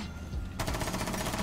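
Rapid automatic gunfire from the video game Rainbow Six Siege bursts in loud and close after a brief lead-in, a fast continuous rattle of shots.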